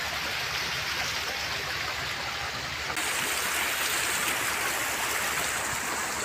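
Steady broadband rush of a stream flowing beside a trail on the way to Mintugsok and Mapawa falls in Cugman, Cagayan de Oro, continuous and fairly close, with no voices over it.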